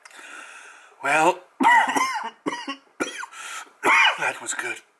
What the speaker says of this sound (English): I smelled from the sacred pipe and I started coughing